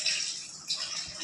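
Food being rinsed in water in a home kitchen, close splashing and trickling with a brief surge of swishing midway.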